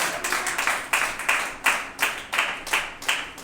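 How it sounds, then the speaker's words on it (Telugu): Church congregation clapping together during prayer at a Sunday service, a steady run of rhythmic claps, about three per second, at moderate level with no talk over them. "చప్పట్లు కొట్టి ప్రార్థన"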